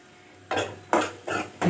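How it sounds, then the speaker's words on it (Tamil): Sliced radish and onion sautéing in oil are stirred with a utensil against the pan, giving four distinct scraping, clattering strokes separated by short pauses over a faint sizzle. "கலர் மாறுற வரையும் நம்ம வதக்கலாம்."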